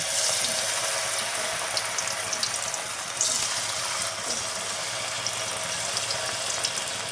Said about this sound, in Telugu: మనకు ఆయిల్ చక్కగా హీట్ అయింది కదా, ఇప్పుడు మనం ప్రిపేర్ చేసుకున్న పిండిని ఇలా చిన్న పునుగుల్లాగా వేసేసుకుందాం.